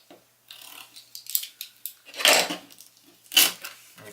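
Knife cutting material while making a DIY hoodloupe: a few close, dry scraping and rubbing strokes, with two sharper, louder cuts near the end, and no talking.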